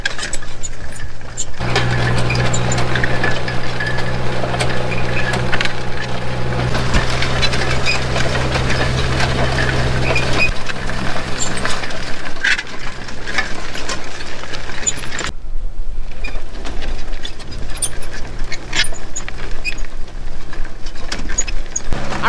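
Sweet corn planting machine running through a farm field, heard from on board as a continuous loud mechanical rumble and rattle that shifts in tone partway through, with no talk.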